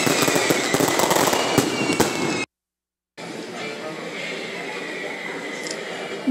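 Dense crackling fireworks from Brazil's June festivals pop and burst continuously, broken by a brief silent gap before the rapid explosions resume.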